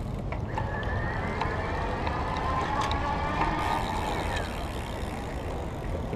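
A 2015 e-Joe Epik SE electric bike is ridden with its motor in high mode, a faint rising whine sitting under steady wind and road rumble, with a voice talking over it.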